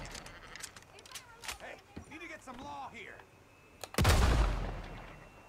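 Gunshots fired into a dead body in Red Dead Redemption 2: one loud, booming report with a long decaying tail follows a stretch of quiet talking and small clicks.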